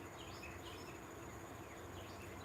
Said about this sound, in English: all you can hear is birds